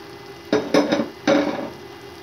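Minced qeema fries in a pan with red chili, chili flakes, garam masala and black pepper as a spatula scrapes and stirs it in three short, close strokes over a faint background sizzle.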